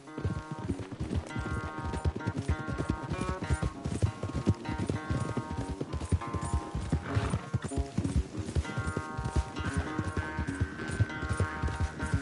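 Rapid hoofbeats of galloping horses in Red Dead Redemption 2 over a busy, continuous musical backdrop, with a brief whinny partway through.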